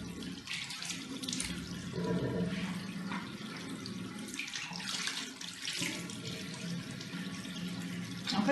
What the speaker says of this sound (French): Là, je vais me mouiller le visage.